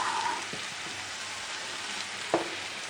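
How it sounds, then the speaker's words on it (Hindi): Ginger sizzles in hot oil in a pan, a steady bright frying hiss throughout with a couple of soft clinks from a utensil. "देखिए अदरक को भी ज़्यादा फ्राई नहीं करना, थोड़ा सा पिंक पिंक सा हुआ है"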